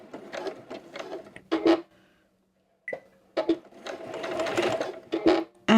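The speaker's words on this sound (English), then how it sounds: "coming right up to the very edge and doing a back stitch" A sewing machine runs in quick whirring bursts, stitching rickrack trim and reversing for a back stitch, with short pauses between runs and soft handling noises.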